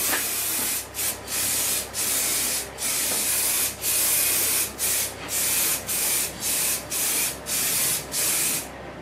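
A spray gun hisses in loud, continuous bursts as tack coat goes onto a car panel, the steady spray broken by a dozen brief pauses in a regular rhythm, close and without speech.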